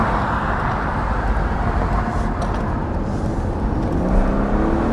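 A 2021 Mercedes E-450 convertible with a 3-liter turbo engine pulls hard under acceleration, giving a steady, loud, close engine roar with road and wind noise for the whole stretch.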